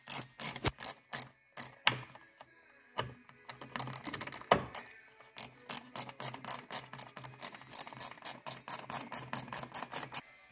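A ratchet wrench clicks rapidly as radiator bolts are screwed into a 2006 Subaru Forester, bursts of sharp, close ratcheting strokes separated by short pauses, with no voices.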